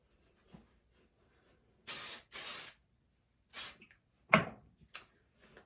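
Hair spray sprayed under curled hair, set with a flat iron: a few short, close hissing bursts, two long back-to-back sprays followed by several briefer puffs, with quiet gaps between them.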